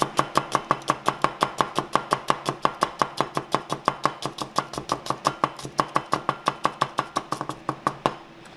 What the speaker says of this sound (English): I go ahead and slice it longitudinally